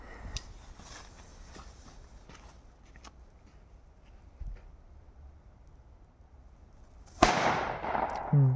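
Quiet background scuffs and taps, then a sharp firecracker bang bursts out near the end, followed by a crackling, noisy tail.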